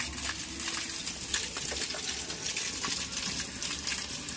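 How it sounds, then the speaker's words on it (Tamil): Water gushing steadily out of a gravity sand filter used for iron removal after backwash, a continuous rushing flow with faint clinks, fairly quiet and with no voices. "ஃபில்டரில் வச்சுட்டு இதை ஓப்பன் பண்ணும்போது கொஞ்சம் தண்ணி அழுக்காக தான் வரும்."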